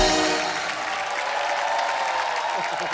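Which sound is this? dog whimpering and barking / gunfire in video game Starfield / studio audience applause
studio audience applause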